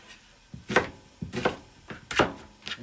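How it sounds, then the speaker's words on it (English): A knife chops a yellow onion into rough chunks on a cutting board, several distinct, sharp thuds in an uneven rhythm, close up and clear with no talk. "And we ain't doing no fancy chopping here either."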